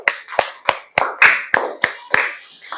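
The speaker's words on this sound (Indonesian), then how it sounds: "Tepuk tangan sekali lagi untuk kita semua." Children in a third-grade classroom clap together in about eight slow, evenly spaced beats, crisp and close, with no talking.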